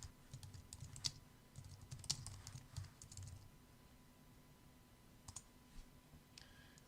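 Sparse, faint clicks of typing on a computer keyboard, with short bursts of keystrokes and a few separate clicks, spread out with quiet gaps between them.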